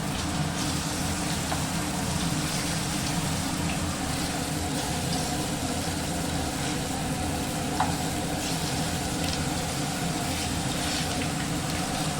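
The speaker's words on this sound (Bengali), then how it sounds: "ভাজা হয়ে গেছে, কোপ্তাটা নামিয়ে দেব।" Jackfruit koftas frying in a pan of oil, a steady close sizzle and bubbling hiss that runs continuously without pause, with faint crackles now and then.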